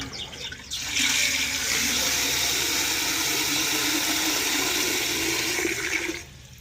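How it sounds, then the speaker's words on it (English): A watering can fills from a tap in a strong, steady rush of water that lasts about five seconds and then cuts off. "So you can see I've filled my can up about halfway."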